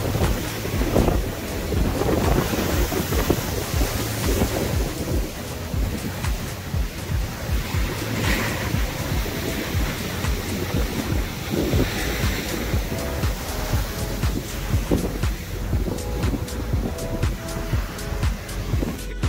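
Continuous heavy surf crashing and churning against rocks at Tinley Manor beach, loud and close, with gusty wind buffeting the microphone throughout.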